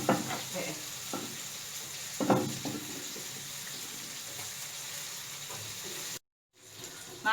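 Lemongrass sizzling and stirred among sautéed spice paste in a pan for Ambonese yellow fish soup, a continuous close frying hiss with a few scraping stirs, broken by a brief dropout near the end.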